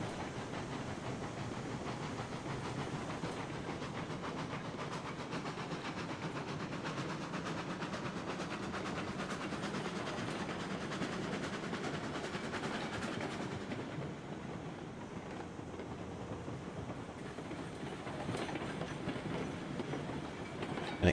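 A train rolls in steadily within the railroad game Railroads Online, its continuous rumble and clickety-clack of wagons holding at a constant loud level, easing slightly toward the end.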